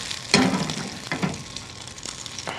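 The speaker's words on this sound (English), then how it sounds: "I'm going to throw our sage right into there. It's going to kind of pop a little bit." Fresh sage is dropped into browning butter in a hot pan and sizzles. Sharp crackling pops come in bursts over a continuous frying hiss, close up, with no talk.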